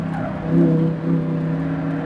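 A Lamborghini Huracan engine surges as it accelerates around a track, a steady loud drone swelling briefly in the middle and again just after, with no talk over it.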